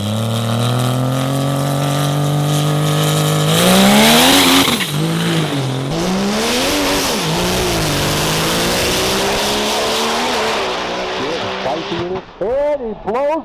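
A diesel pro street drag race car launches and runs down the track, a loud engine roar climbing sharply through gears, followed by crowd noise and an announcer talking over the fading run.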